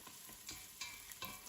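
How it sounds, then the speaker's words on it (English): Onions and garlic sizzling in a pan in a game kitchen setting, a faint continuous frying hiss with a few stirring scrapes, no talk. "it's about to start sizzling"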